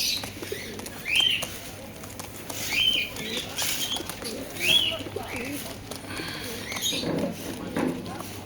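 Pigeons at a breeding loft on a school road in Salar, Murshidabad, including Kaldom, Kalsira, Madras and Giribaj breeds, give soft coos with bursts of wing flapping and scuffling over steady background noise.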